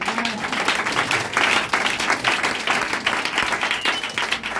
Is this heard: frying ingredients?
no